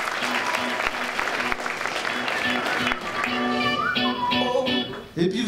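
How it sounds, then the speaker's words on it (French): An audience at a health hackathon event in Strasbourg applauding loudly and steadily, with a voice speaking over the clapping toward the end. "je pense qu'on peut les applaudir encore une fois bien fort"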